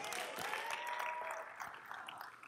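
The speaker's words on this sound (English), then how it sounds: "Let's give Takuya a round of applause" Applause from a church audience after a year-end service talk, a fairly quiet, steady wash of clapping lasting a couple of seconds.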